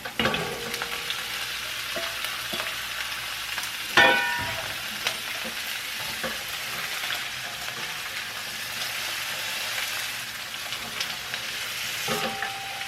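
Chayote sautéing in a pan for ginisang sayote, a constant close sizzle and crackle of frying with a sharp clatter of stirring partway through and another bump near the end.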